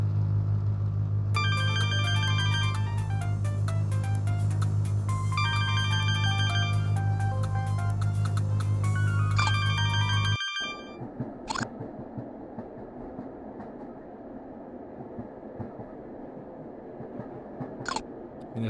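A phone ringtone plays a repeating electronic melody for several seconds while riding on a train, then cuts off, leaving a quieter rumbling cabin background with a couple of faint clicks.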